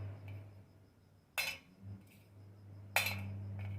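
Crisp cooked jaggery syrup drops onto a plate twice, making two sharp, bright clinks about a second and a half apart, each followed by a short rattle, over a quiet low hum with no talking.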